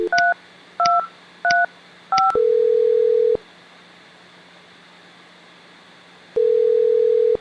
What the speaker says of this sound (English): Dial Maria's extension 3235.